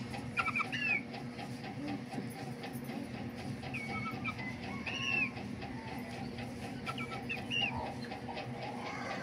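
Chickens cluck and squawk in short bursts over a steady farmyard murmur, with brighter calls rising near the start and middle.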